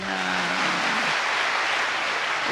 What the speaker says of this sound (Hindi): ताली बजाओ इसमें